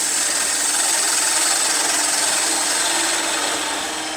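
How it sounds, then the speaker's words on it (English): Woodturning lathe cutting with a parting tool, a continuous close, bright hissing scrape of the tool against spinning wood that holds steady and eases slightly at the end. "Go back to my special parting tool."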